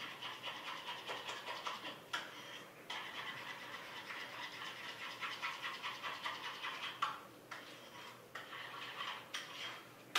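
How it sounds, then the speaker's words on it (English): A spoon stirring thick Greek yogurt mixed with pistachio in a bowl, steady soft scraping and clicking strokes in a regular rhythm, close and quiet. "So I just take a spoon and mix it up"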